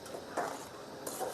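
A spoon scrapes and clinks against a cooking pot while a mixture is stirred, with a few soft irregular metallic knocks over a quiet background.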